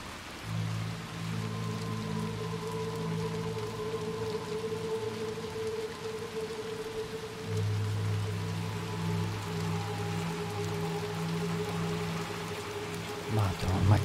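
Steady rain in the video game Little Nightmares 2 patters continuously in the background, a soft even hiss, while low droning tones come and go beneath it.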